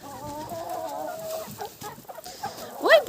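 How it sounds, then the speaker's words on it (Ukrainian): A rooster crows nearby in a drawn-out, wavering call, then gives a short, sharp squawk a moment later. "хто це там так кукуріче?"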